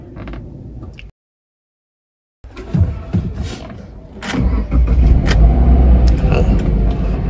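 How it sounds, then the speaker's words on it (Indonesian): The engine of a 2013 Subaru XV AWD cranks after a brief silence, catches, and settles into a loud, steady idle close by, with a low rumble and some mechanical clicks, and speech occasionally over it. "Coba starter mobil ini sebentar."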